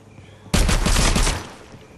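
Video game gunfire in a shooter: a sudden loud burst of rapid shots starting about halfway through, lasting under a second, then fading into a short tail.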